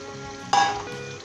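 Two chopped tomatoes hit a hot frying pan with a sudden loud burst of sizzling that eases off to a steady hiss, with no talking.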